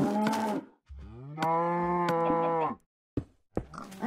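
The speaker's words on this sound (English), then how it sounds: "I have so many cows that I have not gone slaughtering." Cows in the video game Minecraft give two loud, drawn-out moos with deep harmonic tones, then a brief pause and a short grunt-like call at the end, with no talking over them.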